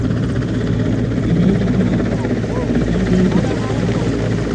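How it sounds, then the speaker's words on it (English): A helicopter flies overhead during an Independence Day anniversary celebration in Adweso, Akuapem, its steady rotor drone and engine buzz loud and continuous throughout. "helicopter"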